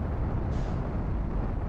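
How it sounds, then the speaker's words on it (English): Spaceship rockets fire in the video game Outer Wilds, a steady low rumbling roar that holds evenly throughout at moderate level, with no talk over it. "Oh, that was the sound of my rockets."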